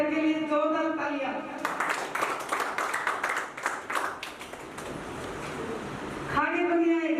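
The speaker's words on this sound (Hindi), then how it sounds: "स्टेज पे बुलाना चाहूंगी सर के लिए जोरदार तालियां" Applause from an audience at an office opening celebration as a speaker is called up to the stage, a broad burst of clapping lasting several seconds between stretches of talk.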